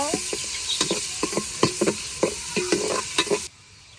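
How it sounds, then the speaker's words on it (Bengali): Chopped onions fry in hot oil as a utensil stirs them, giving a steady sizzle broken by repeated scraping strokes in an uneven rhythm; the sound drops away abruptly near the end. "পেঁয়াজ কুচি পেঁয়াজটা ভালো করে ভেজা নিমো"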